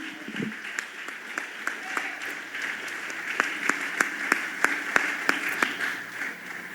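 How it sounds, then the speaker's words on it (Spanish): A church congregation claps in praise, a dense wash of applause with a steady run of sharp, rhythmic claps standing out near the end, growing louder and more unified. "Más fuerte el aplauso a Dios."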